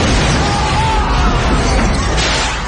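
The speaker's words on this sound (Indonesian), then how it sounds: "secara mengejutkan sebuah ledakan terjadi di mana gedung yang barusan ia tinggalkan sudah porak-poranda" A large explosion tears apart a building in a war film, a dense, loud roaring blast that fills the whole moment with rumble and debris.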